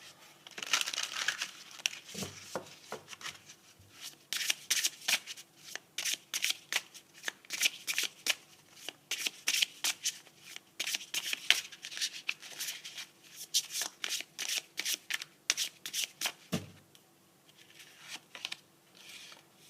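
A deck of tarot cards shuffled by hand in a steady run of crisp riffling slaps and flutters, close and fairly loud, with brief pauses between bursts and no talk.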